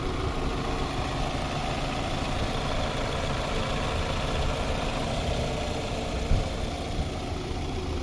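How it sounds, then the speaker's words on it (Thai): A Toyota Camry 2.0 engine idling steadily and evenly, a constant low rumble close by with no talking. "ลองฟังเสียงเครื่องอีกรอบหนึ่งนะครับ"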